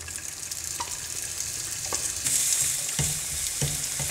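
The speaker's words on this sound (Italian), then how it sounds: "Leggera rosolatura, non troppo forte." Diced speck sizzles gently in a pan as the base for a broccoli-floret risotto, a steady soft frying hiss with a few light stirring clicks and scrapes, close and alone without talk.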